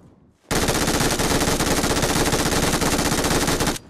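A sustained MG3 machine gun burst in PUBG Mobile, loud, dense and unbroken for about three seconds before cutting off abruptly, with no voices.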